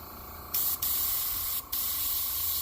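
An airbrush with its tip removed sprays paint onto a fishing bait lure, a close steady hiss that starts abruptly and breaks off twice in short gaps before resuming.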